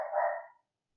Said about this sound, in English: What the fuck is the dog barking about?